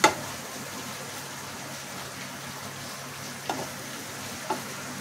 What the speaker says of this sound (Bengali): ভালো করে ভেজে ভেজে নামিয়ে নেব।